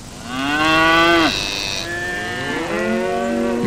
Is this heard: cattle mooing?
yes